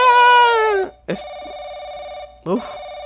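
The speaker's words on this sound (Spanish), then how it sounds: "se ha sonado el teléfono" Telephone ringing in a Spanish-dubbed Paranoiac episode, one long bright ring followed by two shorter ring bursts separated by quiet gaps, close and loud.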